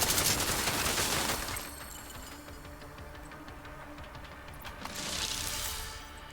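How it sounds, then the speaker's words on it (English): Gunfire rattles through a firefight in the video game The Division 2, with dense bursts loud at the start, easing into a steadier, quieter background of distant shots, then swelling again near the end; no one speaks. "A lot of gunfire going on."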